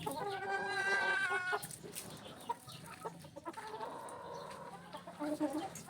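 Brood hens cluck beside young stags in a backyard gamefowl pen, a run of steady clucks and calls giving way to scattered softer clucking, close by and moderately loud.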